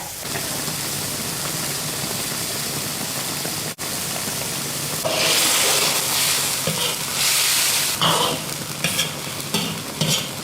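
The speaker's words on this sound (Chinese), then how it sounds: "小火慢炖个5-6分钟就能出锅了" Hairtail fish braising in a wok over low heat, a dense, loud, steady bubbling hiss that briefly drops out and then swells louder, with scattered spoon or lid clinks near the end.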